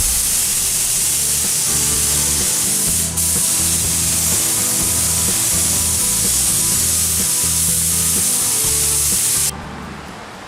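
A spray gun lays clear coat over a car bumper's blended paint repair with a loud, sustained hiss and a pulsing compressor rumble beneath, before the spray cuts off near the end.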